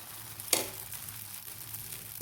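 Appam batter sizzles softly in an oiled appam pan on the stove, a faint, steady hiss with a brief louder crackle early on as a ladleful goes in.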